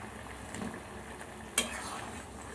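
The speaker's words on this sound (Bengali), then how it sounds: "ঝোলটা আমার টকবক করে ফুটছে" Curry gravy bubbling and simmering in a pan on the stove, a soft, steady low burble heard up close, with one brief sharp clink of utensil against the pan partway through.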